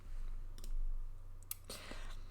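Computer mouse clicks, made while working in calendar scheduling software, come as a few faint, sharp taps spread across a quiet room with a low steady hum. Nobody speaks.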